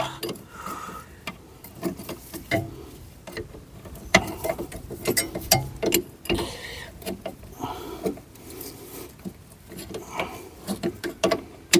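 Brake pipe fitting being tightened on the front caliper of a Skoda Estelle 120, heard as irregular metallic clicks, taps and ratcheting scrapes from a spanner at close range, fairly faint, with no talking.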